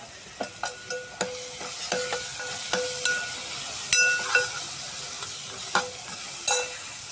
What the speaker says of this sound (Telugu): దాని తర్వాత గరం మసాలా వేసుకొని కలుపుకోండి